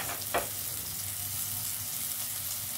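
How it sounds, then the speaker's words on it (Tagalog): Tomatoes sauté in a hot pan for fish tinola with a steady, close sizzle and a brief louder stir or scrape near the start, and no one speaks. "kailangan lulutuin natin lutong-luto yung kamatis"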